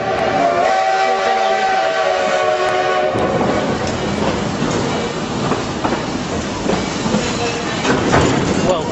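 A Durango and Silverton steam train at a railfest, with a sustained harmonic whistle for about three seconds, then loud rolling rumble and clatter of the cars passing close by.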